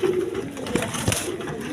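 Desi coloured Rasgolla pigeons coo softly in a few short low phrases, close by, with a faint background hum.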